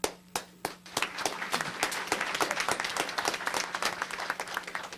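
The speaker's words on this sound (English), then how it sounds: "You're getting applause." A crowd at a council meeting claps steadily for several seconds after a motion passes, scattered claps at first quickly building into dense, even applause with no voices.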